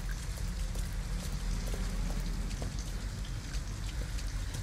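Steady rain pours down in the video game Detroit Become Human, a dense, even hiss of drops on surfaces that continues without pause.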